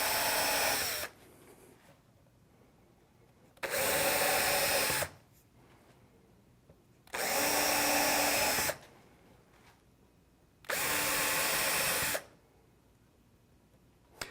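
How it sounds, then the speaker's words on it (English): A power drill whirs in four separate bursts of about one and a half seconds each, drilling screw holes from above into a crosscut sled, with quiet pauses between them, close and loud. "I'm going to drill them from above first, and then I'll go below and countersink them."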